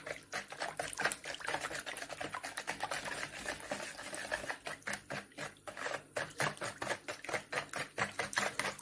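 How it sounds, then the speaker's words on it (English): Rapid, rhythmic clicking and tapping of a whisk beating blueberry muffin batter in a bowl, close and steady for the whole stretch. "I think I'll just use a whisk for that one."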